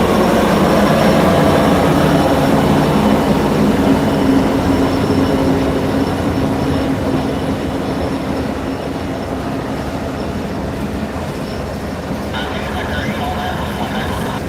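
SD70AC locomotive 1805 rolls through a classification yard, with steady wheel rumble and rail noise, light squealing and a clatter of passing cars, easing slightly toward the end.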